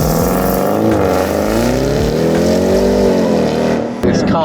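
An Audi RS6 engine sounds from close by as the car drives, loud and steady, with revs rising and falling smoothly and a sharp knock near the end.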